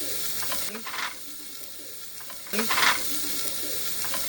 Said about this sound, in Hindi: अब हम इसमें लाल मिर्ची का यूज़ करते हैं और अपने कुकर में डाल देंगे छोंक को।